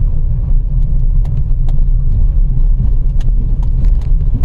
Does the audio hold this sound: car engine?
yes